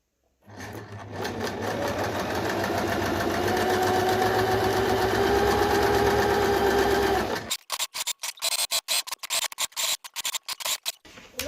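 A sewing machine stitches along a folded fabric edge in one long, fast, steady run, then breaks into a series of short stop-start bursts of stitching.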